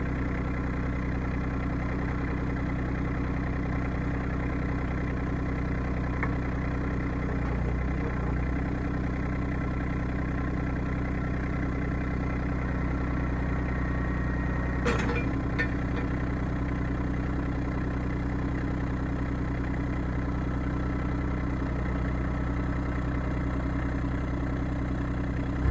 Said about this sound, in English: Pull the tractor out.